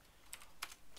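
A computer keyboard clicks as a Minecraft WorldEdit command is typed: a few quick, soft keystrokes sound close but faint against a quiet background.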